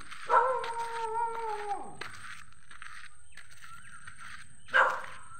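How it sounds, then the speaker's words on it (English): A dog at Auroville's Udyogam Cafe lets out a long, wavering howl that slides downward, then goes quiet before one sharp bark near the end. It sounds close and carries clearly over a faint background. "dog is here."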